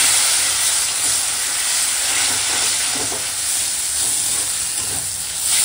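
Water poured into fried spice masala of dried red chilli powder in a pan, for a rohu fish head curry with Malabar spinach, egg and potato, gives a loud, steady hiss and sizzle that runs unbroken throughout, with no talking.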